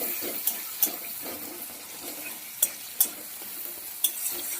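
Soft, steady sizzling of stuffing for stuffed pointed gourd being stir-fried in a pan. A few sharp scrapes of the spoon against the pan stand out above the quiet hiss.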